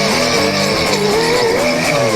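An angle grinder strips a dented car body panel down to bare metal, a loud, continuous whine with a wavering pitch that runs without a break throughout.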